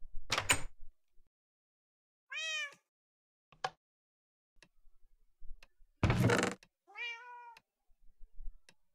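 A door in a video game opens and shuts with two short, sharp clunks several seconds apart. High, gliding cat meows fall between them against otherwise silent game audio.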